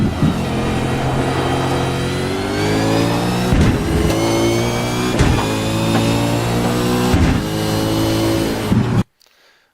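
A race car on the Motegi circuit downshifts into second gear for a tight uphill left-hander, its loud engine howling with repeated sharp rev blips and pitch drops between gears, close and alone, before cutting abruptly to near silence.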